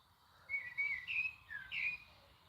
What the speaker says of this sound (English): Birds chirping. Yes, birds chirping.